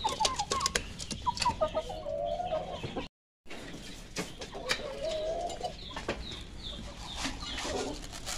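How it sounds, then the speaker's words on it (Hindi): Chickens and a rooster in a backyard coop cluck and call at fairly close range in a quiet setting, a string of short clucks and drawn-out notes broken by a short silent gap, with no talk. "ये जो ऊपर वाला मुर्गा है"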